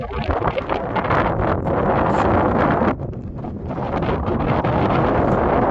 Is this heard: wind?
yes